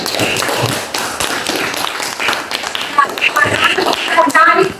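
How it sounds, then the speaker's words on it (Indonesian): Classroom of students clapping for a classmate during an Indonesian lesson, a loud, busy burst of hand claps and taps with scattered voices and shuffling throughout. "tepuk tangan dulu untuk Fajar"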